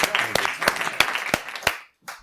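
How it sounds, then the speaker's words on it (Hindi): An audience claps loudly in welcome for a poet at a Hindi poetry gathering, crisp dense claps that fade out briefly before a final short burst. "जोरदार तालियों से जगजीवन जी को आमंत्रित करिए"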